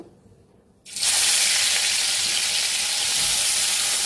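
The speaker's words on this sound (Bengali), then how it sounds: "এইবার দিয়ে দিচ্ছি চিংড়িগুলো" Prawns hit hot oil and burst into a loud, steady sizzle after a brief quiet moment, frying continuously close up with no talk.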